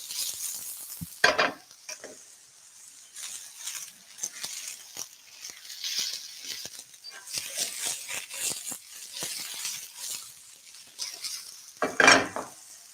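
Mushrooms sizzling in a hot pan as they sear for ginger mushrooms, a soft frying hiss broken by scraping stirs and sharp utensil knocks against the pan, with occasional voices.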